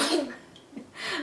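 A person's sneeze, a short burst of breathy noise followed by a second explosive release about a second later, close to the microphone and fairly quiet.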